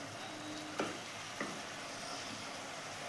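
Prawn jhal chochchori, prawns with raw mustard oil, stirred in a pan over a steady soft sizzle, with two brief scraping strokes of the spatula against the pan.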